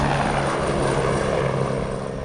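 An NYPD police helicopter flies over New York City, its steady rotor and engine drone filling a short stretch at moderate loudness with no talking.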